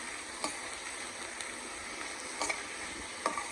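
Vegetables for a brinjal lunch box fry in a little oil in a pan, a faint steady sizzle with a few soft stirring clicks of a spoon against the pan.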